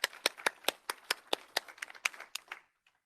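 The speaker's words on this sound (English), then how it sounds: "can you give Elise a round of applause, please" A conference audience gives a short round of applause, a few seconds of brisk, close clapping in a fairly regular beat that stops abruptly, leaving near silence.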